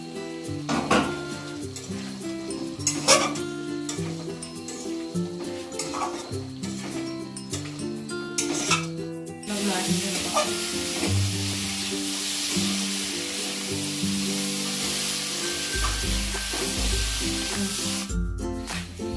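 Taro root pieces frying in hot oil, with a steady loud sizzle and scraping stirs from a utensil against the pan, preceded by clinks and clatter of cookware, no talking.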